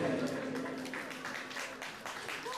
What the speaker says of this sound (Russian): Ваши аплодисменты, уважаемые гости!